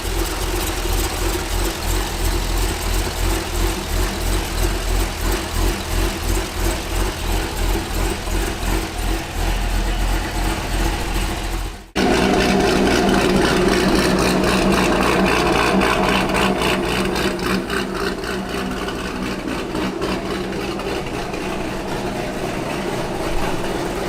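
A cammed LS3 V8 in a 2013 Corvette Grand Sport idles loud and close with a choppy, lopey pulse, cutting out briefly midway before settling back into a steady, rough rumble alone.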